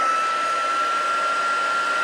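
A handheld heat tool set to its high setting blows hot air over a candle, giving a steady, even whooshing hum with a thin, constant whine through it, close and unbroken.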